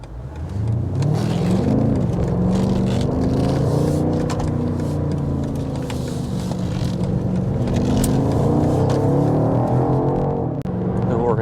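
A BMW X6M Competition drives down a country road, its engine droning loudly and steadily with rising and falling revs as the gears change, plus road and tire noise throughout.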